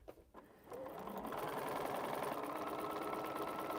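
A sewing machine stitches a quilt, starting after a few soft handling clicks and then running in a steady, close mechanical whirring hum with a rapid rhythmic needle pulse that continues to the end.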